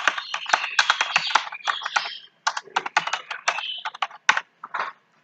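Someone types on a computer keyboard in quick bursts of close, crisp key clicks with short pauses between them.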